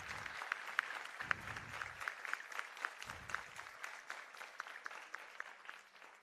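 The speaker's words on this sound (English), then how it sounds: "So big round of applause for all of them." Audience applause for student performers at a dance recital, a steady patter of many hands clapping throughout, moderately close, with a few sharper individual claps standing out.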